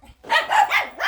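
A pet dog at home, among a golden retriever and shih tzus, lets out a quick run of loud, close barks, three or four sharp yaps in rapid succession, with no speech.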